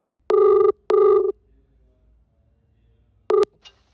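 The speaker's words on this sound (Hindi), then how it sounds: "मैं एक बार फिर से उनको कॉल करने की कोशिश कर रहा हूँ" Ringback tone of a telephone call being placed: two long buzzing rings about half a second apart, a pause, then a third shorter ring, heard clearly and alone.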